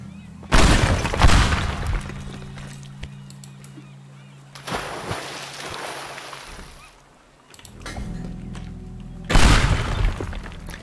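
Pipe bombs exploding in the Teardown game as three loud, separate booms with shattering debris and crumbling aftermath, spaced several seconds apart with quieter rumble between.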